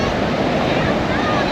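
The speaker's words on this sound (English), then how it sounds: "Got some nice waves breaking in here" Small ocean waves breaking on the rocky shore of Acadia National Park in Maine, a steady broadband wash of surf with some wind noise on the microphone and no clear individual crashes.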